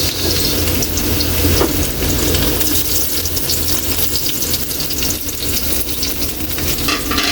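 Garlic and onion fry in hot oil for an anchovy dish, a loud, steady, rushing sizzle close by with a low rumble underneath and faint stirring, and no speech.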